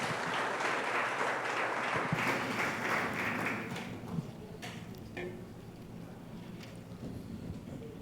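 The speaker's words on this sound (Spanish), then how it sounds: "démosle un fuerte aplauso al Señor por la vida de él" A church congregation claps for several seconds, a dense patter that thins and fades midway, leaving scattered taps and quiet room noise.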